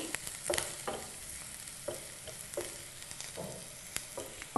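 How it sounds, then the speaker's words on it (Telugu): Onions and green chillies fry in a pan for a tomato cauliflower potato curry, giving a steady soft sizzle with a few sharper scraping clicks as they are stirred, with no voices. "పచ్చిమిర్చి వేసుకొని ఒకసారి బాగా కలుపుకోవాలి కలిపి వేగనివ్వాలి వీటిని"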